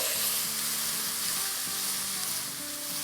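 Garlic and ginger paste fries in a pan with a steady, close, bright sizzle that holds evenly throughout without pause.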